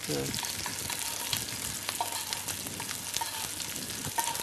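Free-range farm chicken skin crisping in a hot pan, a steady dense sizzle with crackling pops and a few scraping stirs, close and continuous with no voices.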